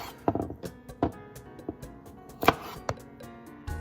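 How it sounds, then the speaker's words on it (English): A knife tip trims stems and tails off radishes on a cutting board, giving a quick irregular run of sharp taps and clicks, close and moderately loud. "I'm just gonna go through and use the tip of the knife, and I'm just gonna trim off the stems and tails here"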